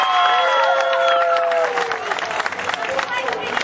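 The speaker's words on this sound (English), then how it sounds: "Let's give David a nice big round of applause for getting the gator's mouth up for you." Live audience at an alligator show clapping and cheering for a handler who has just lifted the gator's mouth, with a presenter's voice carrying over the start of the applause and the crowd noise building into a broad rattle.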